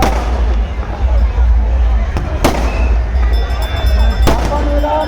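Firecrackers burst during a Ganesha immersion procession in Kurnool, sharp loud cracks standing out over a constant crowd roar and rumble, with a few distinct bangs across the stretch.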